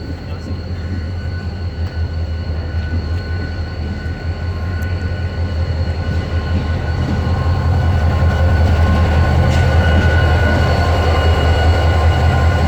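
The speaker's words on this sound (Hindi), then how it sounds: "और अब ये locomotive as a light power जा रहा है कराची कैंट रेलवे स्टेशन पर।" A railway locomotive running light engine, with no train attached, near Karachi Cantt station, rumbles steadily past with a continuous low engine drone and wheel noise that grows louder toward the end.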